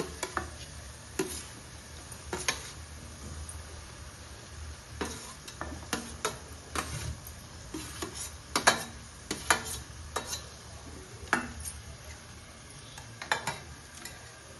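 Peas and finely chopped tomato fry in oil for pav bhaji, with a soft steady sizzle under repeated sharp spatula knocks and scrapes as the mixture is stirred. No one speaks.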